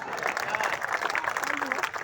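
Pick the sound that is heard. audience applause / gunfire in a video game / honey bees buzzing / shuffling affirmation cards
audience applause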